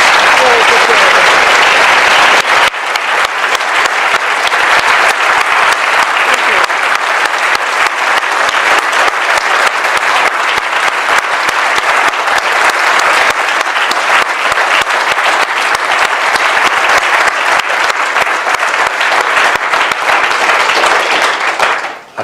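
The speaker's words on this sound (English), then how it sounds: "the volume and the length of the applause says it all" A lecture audience at a university prize lecture applauds loudly and steadily for about twenty seconds, a dense sustained clapping from a large crowd that sets in after a brief opening and stays strong to the end.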